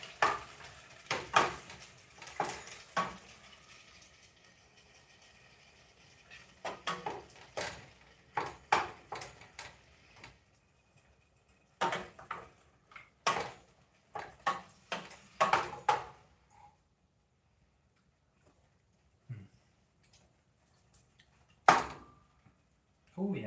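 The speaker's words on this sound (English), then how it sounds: "So I'm going to go with the diced tomatoes. Stir those in." Metal spoon scraping and clinking against a pot while diced tomatoes are stirred into chili, intermittent close knocks and scrapes in clusters separated by quiet pauses, with occasional talking.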